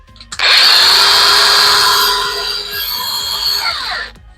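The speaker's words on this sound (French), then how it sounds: "vous avez réparé votre meuleuse." A repaired Makita angle grinder spins up on a test run, a loud, close, high-pitched motor whine that holds steady for several seconds, then drops slightly before cutting off.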